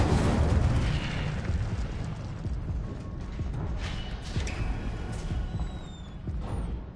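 Incendio fire spell cast repeatedly in Hogwarts Legacy, a dense roaring blaze of bursts and deep booms that rumbles on without pause for several seconds, loud and close.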